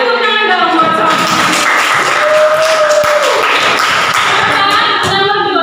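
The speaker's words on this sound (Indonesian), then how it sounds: "Kita tepuk tangan dong buat Sofia." Schoolchildren in a classroom clap loudly and steadily for a classmate, a dense close-up patter of hands with excited young voices mixed in throughout.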